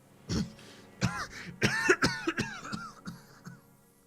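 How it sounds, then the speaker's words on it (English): A man breaks into a harsh, raspy coughing fit in the video game Disco Elysium, a series of close, irregular hacking coughs and throat clears. "His hand shakes as he breaks into a coughing fit."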